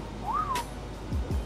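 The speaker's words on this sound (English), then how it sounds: "Did you just whistle at me?" A single short whistle rises and then falls in pitch, heard faintly indoors, followed by a couple of low thumps.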